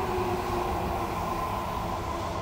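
Steady, loud interior rumble of a Toho Line subway train rounding a curve, with dense wheel and motor noise throughout and no talk.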